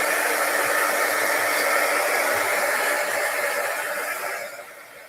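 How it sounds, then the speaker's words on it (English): A handheld craft heat tool blows hot air in a steady, loud rushing hiss to dry ink on a stencil, holding constant before tapering off as it is switched off. "then I'm going to heat it with my heat tool just a little bit to dry it."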